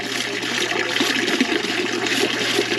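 A small indoor waterfall in a humid enclosure splashes and trickles continuously, a close, steady rush of falling water with no pauses.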